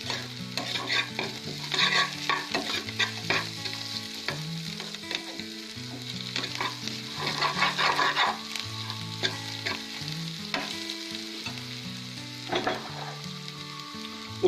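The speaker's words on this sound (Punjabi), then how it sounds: "ਆਪਾਂ ਨੇ ਅਦਰਕ ਨੂੰ ਹਲਕਾ ਜਿਹਾ ਭੁੰਨ ਲੈਣਾ।" Ginger fries lightly in a pan for a paneer bhurji, with a steady soft sizzle broken by repeated scraping and clinking strokes of a spoon stirring close by, no talking.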